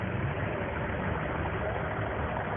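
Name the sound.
Ford TW25 tractor engine idling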